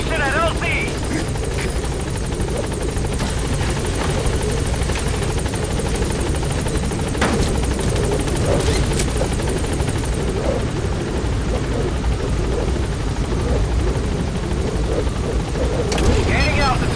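Helicopter hovering and lifting off at a landing zone in Metal Gear Solid V, a loud steady rotor thrum and engine whine filling the whole stretch, with radio-style voices over it.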